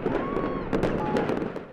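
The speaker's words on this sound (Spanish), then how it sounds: "Los fuegos artificiales marcan el cambio de año en China, que sigue el calendario lunar." Fireworks crackle and pop during Chinese New Year celebrations in China, a dense barrage of bursts and whistles over a continuous roar, loud and sustained.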